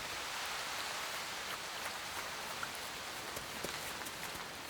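Steady autumn rain pattering through forest foliage, a dense even hiss with scattered drips landing close by.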